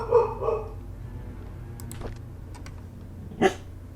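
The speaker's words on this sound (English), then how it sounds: "Sorry about the dog." A dog barks twice in quick succession, fairly close, then gives one more bark a few seconds later, with light clicking sounds in between in a quiet indoor room.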